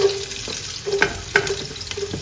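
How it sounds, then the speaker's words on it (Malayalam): Chopped onions sautéing in hot oil in a pan for a vegetable fried rice, giving a steady close sizzle punctuated by a few sharp scrapes and clinks of stirring. "ആ ഉള്ളിയുടെ ചുവന്ന നിറ ആവുമെന്ന് വേണ്ട ജസ്റ്റ് ഒന്ന് വഴറ്റിയാൽ മതി"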